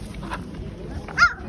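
Puppies at a Kyzylorda animal market give a brief, high yelp amid low market murmur and distant voices.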